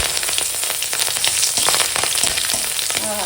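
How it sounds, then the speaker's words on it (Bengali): Torn green chillies and black cumin (kalo jeere) hit hot oil in a pan, giving a loud, steady, crackling sizzle close up with no speech. "তেল গরম হয়ে গেছে দিচ্ছি কাঁচা লঙ্কা দুটো ছিঁড়ে দিলাম আর দিচ্ছি কালো জিরে"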